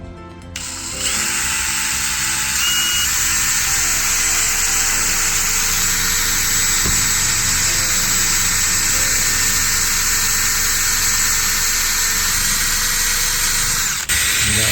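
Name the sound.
drilling a hole through a glass office door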